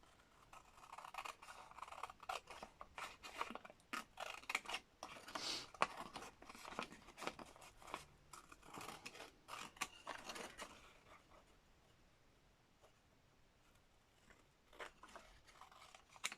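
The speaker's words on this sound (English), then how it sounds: "let's just do it with scissors" Scissors cutting through paper for layered junk journal tags, a quick run of close crisp snips and rustles, fading to quieter isolated cuts toward the end, no talking.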